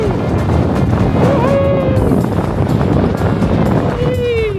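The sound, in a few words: wind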